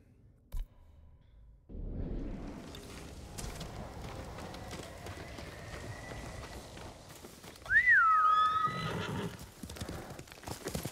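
A horse whinnies loudly near the end in Ghost of Tsushima, over a busy bed of game sound effects, rumbling and clip-clopping hooves.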